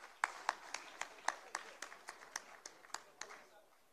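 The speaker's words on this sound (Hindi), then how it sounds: "जोरदार तालियों से हम आपका अभिनंदन करते हैं" A small audience at a silver jubilee function claps to welcome a speaker, a sparse run of distinct individual hand claps rather than a full ovation, fairly quiet, with no talking.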